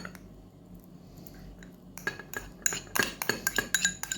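Soft feta cheese is stirred into a sauce, quiet at first, then a quick series of close scraping clinks of a utensil against a bowl in an uneven rhythm.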